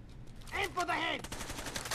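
Gunfire in the video game Tom Clancy's Rainbow Six Vegas 2, a quick, fairly faint burst of shots with a rattling, ringing tail.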